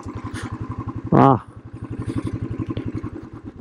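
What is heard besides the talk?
motorcycle engine off-road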